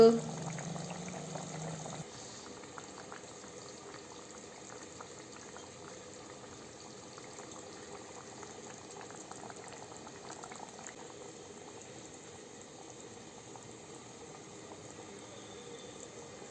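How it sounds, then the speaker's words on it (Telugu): A small-fish tamarind curry simmers in a clay pot, a soft, continuous bubbling and gurgling heard close up and fairly faint after a brief louder sound at the start. "అది అలా ఉడుకుతూనే ఉంటుంది 5 నిమిషాలు"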